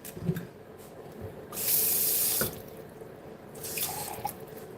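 Tap water runs into a measuring cup for about a second during lasagna preparation in a home kitchen, a short steady hiss with a fainter trickle near the end, no talking.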